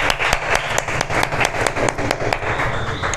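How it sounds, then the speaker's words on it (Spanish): A church congregation gives a big round of applause for God, loud and close, with sharp distinct claps standing out over a rhythmic, roughly even patter of many hands. "un aplauso para Dios bien grande"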